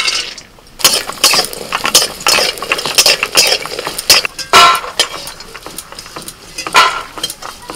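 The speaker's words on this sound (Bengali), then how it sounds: "কড়াইতে সর্ষের তেল দিয়ে দিয়েছি তেলের মধ্যে এখন বড়িগুলো ভেজে নেব" Sun-dried lentil dumplings fry in mustard oil in a wok, a close, busy sizzle broken by repeated scraping stirs and metallic clinks of a spoon against the pan, with no voices.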